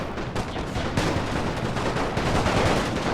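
Artillery in a Napoleonic battle from Napoleon Total War's Great War mod, with dense rolling booms and crackling gunfire overlapping continuously, loud and close with no pauses.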